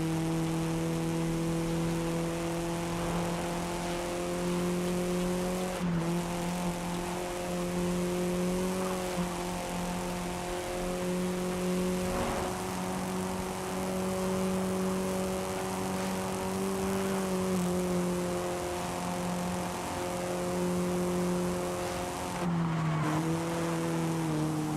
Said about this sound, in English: This Escort RS Turbo. It's from 1986.